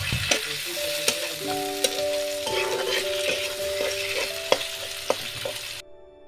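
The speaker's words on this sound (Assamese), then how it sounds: "এতিয়া বিলাহীখিনি ভালকৈ গলি যোৱালৈকে ভাজি ল'ম" Tomatoes and onions fry in a pan for an Assamese-style chicken curry, giving a steady close sizzle broken by sharp clinks of stirring, until the sound cuts off near the end.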